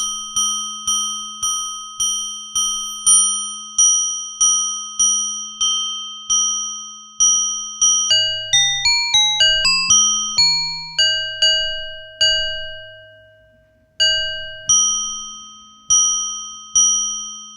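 Ambient bell tones from an Arturia MicroFreak synth with resonance and reverb: a run of repeated bright metallic dings, then a quick cascade of shifting pitches and longer ringing bell notes that fade out before the pinging resumes, with no voices.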